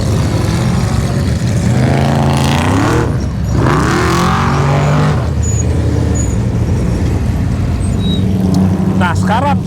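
Off-road race cars at the Mint 400 start two at a time, engines revving loudly and roaring past up close. People talk and cheer over the noise.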